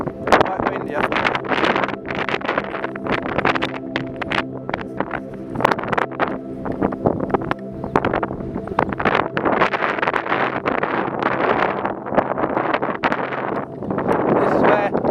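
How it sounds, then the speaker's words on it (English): Strong gusty wind on a hilltop buffets the microphone in loud rough bursts, with a person talking intermittently underneath. "Quite windy up there."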